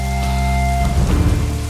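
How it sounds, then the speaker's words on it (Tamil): Heavy rain pours steadily in a dense, loud hiss that never lets up, with a low continuous rumble and some music underneath throughout. "பேய் மழையா இருக்குது"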